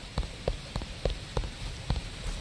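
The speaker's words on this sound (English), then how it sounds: "Let's just walk a little faster out in the rain, I guess." Rain falls steadily across a Roblox horror game map, with a constant wash of drops punctuated by regular soft thuds, likely footsteps, about every half second; no one speaks.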